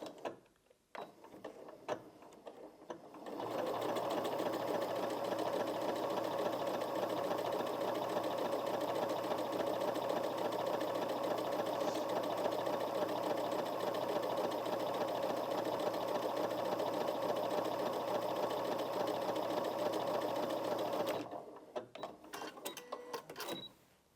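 A Janome MC 6700p sewing machine runs steadily for about eighteen seconds, stitching awkward fabric on a slightly longer stitch length, a continuous close mechanical whir that starts and stops cleanly with quiet moments before and after.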